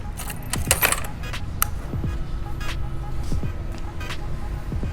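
Keys for a Suzuki GSX-S150 motorcycle jingle in a few quick metallic bursts close by, with faint voices and a low engine rumble underneath.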